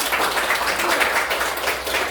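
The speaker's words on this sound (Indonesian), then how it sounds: "Tepuk tangan." A classroom of children applauds, a short steady burst of dense clapping from many hands, close and fairly loud.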